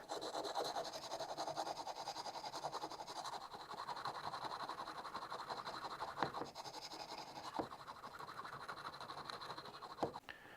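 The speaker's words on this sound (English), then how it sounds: "If you don't have a machine, just take a good old file and do it like this." A hand file scrapes back and forth along the spine of a Mora knife in steady, close, raspy strokes, with a few sharper scratches.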